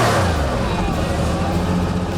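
Air-cooled engine of a 1977 Porsche 911S Targa, running again after six years, idling with a loud, steady, dense rumble close by, no voices.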